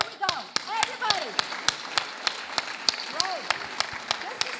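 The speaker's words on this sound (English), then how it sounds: "You can give yourself a big clap." A crowd at a speaking event applauds with scattered sharp claps, while someone speaks over the clapping with rising, animated intonation.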